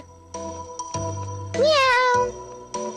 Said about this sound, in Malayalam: എന്തിനാ ആ പൂച്ച അവിടെ ഉറങ്ങുന്നത്?